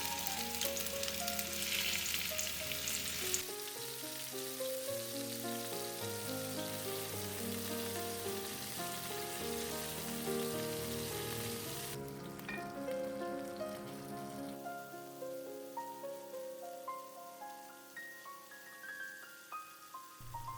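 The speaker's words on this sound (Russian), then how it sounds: "Наливаем растительное масло на сковороду, нагреваем и выкладываем тефтели обжариваться до румяной корочки." Beef and bacon meatballs frying in heated vegetable oil in a pan, a steady, close crackling sizzle that carries on without a break and eases slightly toward the end.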